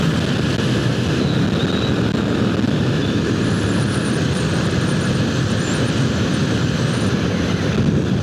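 Naked motorcycle with no fairings accelerating wide open in fifth gear at high speed, a steady loud engine roar blended with heavy wind rush throughout, no voices.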